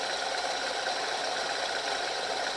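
A homemade flywheel generator spinning freely on a bearing, a steady whirring hum with a faint rattle that holds at constant loudness throughout, close by, with no talking.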